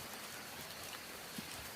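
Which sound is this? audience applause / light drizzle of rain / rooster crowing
light drizzle of rain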